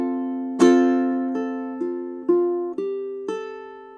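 Ukulele fingerstyle picking of a melody, played quickly: a strong opening pluck followed by about five clear, evenly spaced notes that ring and decay, close and alone with no talking.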